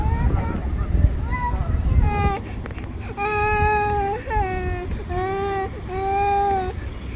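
A young daughter cries and wails in long, rising harmonic sobs, with several sustained cries in a row close to the listener over a busy background din.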